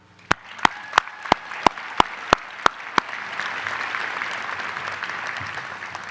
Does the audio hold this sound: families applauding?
yes